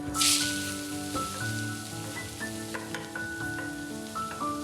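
Chopped garlic and red onion hit hot oil for an Ethiopian corn firfir, bursting into a loud sizzle at first that settles into a steady crackle, with faint clinks and scrapes from a pan and utensil.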